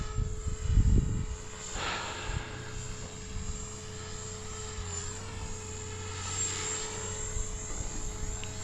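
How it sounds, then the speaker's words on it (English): An FMS Cessna 182 Skylane RC model plane on final approach and landing, its electric motor giving a steady high-pitched whine with a constant tone, heard close and continuous throughout. "So here is our final approach and our landing."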